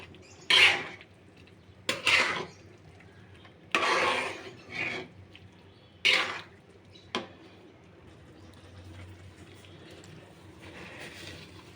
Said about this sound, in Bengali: এ পর্যায়ে একটু নাড়াচাড়া করে দেব।